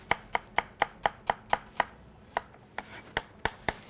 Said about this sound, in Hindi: तो यहाँ पर हमने अनियन को थिन स्लाइसेस में काटना है